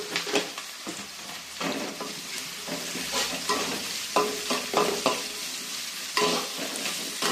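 Food sautés in a pan with salt added before onions go in for a chicken dish: a steady sizzle broken by repeated scraping strokes of a spoon stirring, close and fairly loud.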